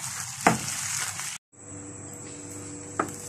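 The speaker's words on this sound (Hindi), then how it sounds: "ये अच्छे से इसमें मिक्स करके इसको अच्छे से भून लेंगे" Chicken mince frying in a pan with red chilli powder, a steady sizzle throughout, broken by a short silent gap and two sharp knocks of a spoon stirring against the pan.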